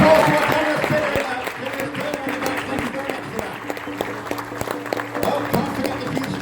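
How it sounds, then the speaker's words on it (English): A crowd at a fan convention auction claps after a sale, scattered sharp hand claps spreading through the room while voices talk over them and the applause slowly thins. "And a huge round of applause for our generous bidder."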